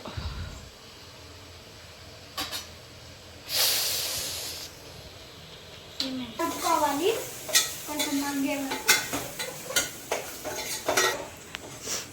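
Mutton curry is stirred in a pot, starting with quiet sizzling and a burst of hiss, then moving to repeated close spoon scrapes and clinks against the metal over a steady simmer.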